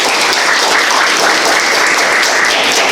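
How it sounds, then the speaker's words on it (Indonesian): A room full of students applauds a group's presentation in a classroom: steady, dense clapping from many hands runs unbroken at close range, with no voices over it. "Ya, kita kasih aplaus dulu ya"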